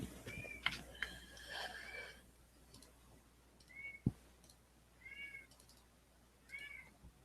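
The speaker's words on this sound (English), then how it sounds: "Can you guys hear my bastard cat in the other room?" A cat meows several times from another room, faint and distant, with separate cries spaced across a quiet indoor space, a sharp click midway and soft background voices.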